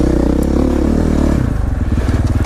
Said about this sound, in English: Lock up the rear brake, come sliding in, basically pointing the bike where you want to go